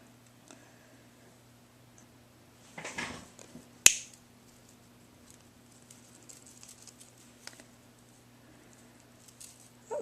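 A small link of craft-store chain snapped through with a cutting tool, one sharp, bright click standing out from a quiet background after a brief rustle of handling.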